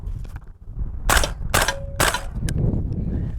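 Three sharp suppressed shots from a Maxim Defense 300 Blackout rifle with a can fitted, evenly spaced and fairly close, followed by a fainter fourth crack.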